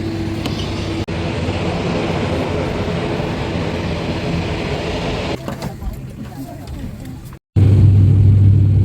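Aircraft engines drone loudly and steadily through a cabin on a flight from Kathmandu to Pokhara, then the noise drops, breaks briefly, and returns as a louder deep hum.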